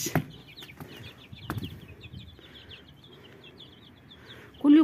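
Egyptian baladi chickens on a rooftop give soft, scattered clucks and chirpy calls, close by, with a few knocks and a louder burst at the end.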